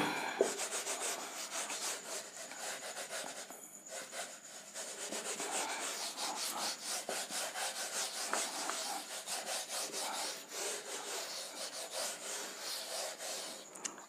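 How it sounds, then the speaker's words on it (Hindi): Steady back-and-forth rubbing as writing is erased from a board, a continuous close scraping texture with an even rhythm and a brief pause partway through. "मैं इसे रब करूंगा क्योंकि स्पेस थोड़ा कम है, तो यहां पर मैं इसे क्लियर करके फिर इसके बाद वाली नंबर करता हूं"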